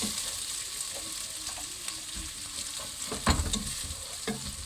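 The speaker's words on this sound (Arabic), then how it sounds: "كنخلط مزيان حتى هذا العدس وكنخليه حتى هو" Lentils frying with onion in a pan, a constant sizzling hiss with intermittent scraping and clinks as they are stirred, close up, including one louder knock near the end.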